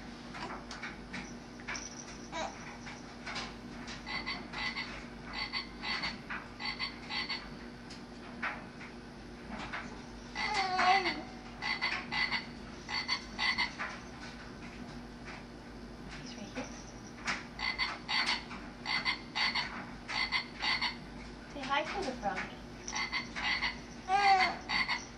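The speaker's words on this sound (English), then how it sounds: "Grabbing a frog." Frogs croaking in repeated bursts of rapid rattling calls, several clusters rising and falling against a quiet background hum, moderately near with brief pauses between choruses.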